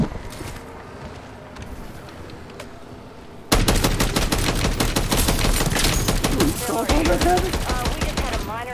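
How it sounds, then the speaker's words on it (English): An ammo locker blows up in a video game: after a few seconds of quiet background, a sudden loud burst of rapid crackling detonations erupts and keeps rattling on in dense, gunfire-like volleys. "We just had a minor explosion in the ammo mob locker."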